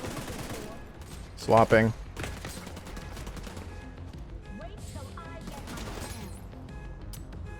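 M249 machine gun fire in The Division 2, heard as scattered gunfire bursts under constant battle noise, with a short spoken remark near the start.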